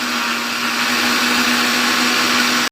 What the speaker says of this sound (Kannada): ಆಮೇಲೆ ಮಿಕ್ಸಿ ಆನ್ ಮಾಡ್ಕೊಳ್ಳಿ. ಇಲ್ಲಿ ನೋಡಿ ಆನ್ ಆಗಿದೆ. ಇವಾಗ ರುಬ್ಬಿ ಅದನ್ನು.